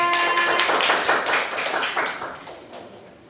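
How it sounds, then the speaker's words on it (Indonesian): Students in a classroom clap for a classmate, a dense patter of many hands that starts strong and gradually thins out and fades over a few seconds. "tepuk tangan dulu buat Nada."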